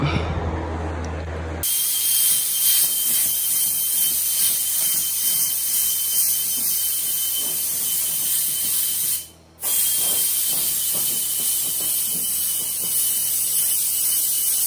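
Steady abrasive scraping of sandpaper on a wooden bed frame, a continuous close rasping hiss with a faint rhythmic back-and-forth and one brief pause partway through.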